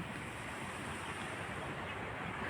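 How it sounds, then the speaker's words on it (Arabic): Stormy sea surf rolling onto an Alexandria beach during a winter gale, a steady broadband roar of breaking waves mixed with gusting wind noise on the microphone, continuous and loud with no talking. "بصوا الموج هناك عامل ازاي"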